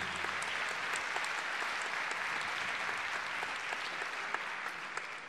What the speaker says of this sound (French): Oui, on applaudit, on applaudit.